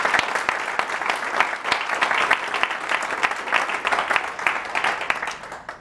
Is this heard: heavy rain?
no